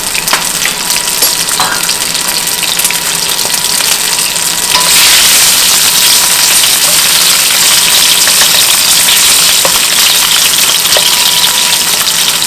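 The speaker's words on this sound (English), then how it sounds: "Now I'm going to add the sausage. And all I'm looking for is to brown it at this point" Italian sausage, partly frozen and mostly thawed, browns in a pan with a steady, loud sizzle and hiss that swells louder midway and holds through to the end, with no talking.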